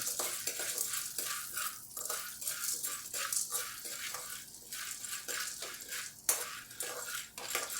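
Popcorn kernels stirred in hot oil in a wok, giving a steady clatter and rattle of utensil against metal with a faint sizzle beneath, close and continuous.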